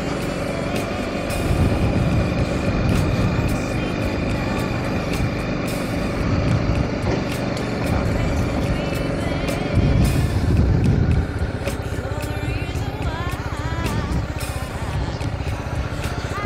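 BMW G 310 GS 2023 motorcycle ridden at low revs in second gear, a steady engine thrum with road and wind noise and passing traffic around it, no talk.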